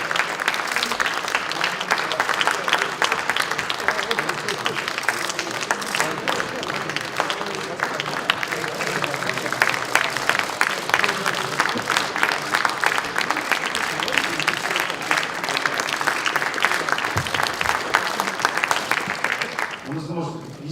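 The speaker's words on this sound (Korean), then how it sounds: "국민께서는 큰 박수로 환영해 주시기를" Sustained, dense applause fills a party caucus meeting room as the People Power Party assembly gives a standing welcome to Seoul mayoral candidates Oh Se-hoon and Ahn Cheol-soo, steady and loud for about twenty seconds before easing off at the end.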